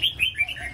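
A black-throated laughingthrush calls close up, a quick run of three or four bright, clear whistled notes in under a second, clean and alone.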